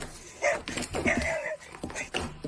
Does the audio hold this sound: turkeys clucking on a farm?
no